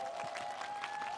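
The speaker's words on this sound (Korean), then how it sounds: "다시 한번 큰 박수 부탁드립니다" Concert audience at a special music event giving steady applause, a dense, even patter of clapping for about a second, moderately quiet, with a faint sustained tone underneath.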